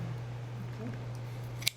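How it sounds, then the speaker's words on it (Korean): Scissors make a single sharp snip cutting noodles at a restaurant meal, heard near the end over a steady low electrical hum. "가위로 몇 번"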